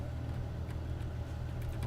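A tractor engine running steadily in the Farming Simulator 19 video game, heard as a low, quiet, even drone with no revving.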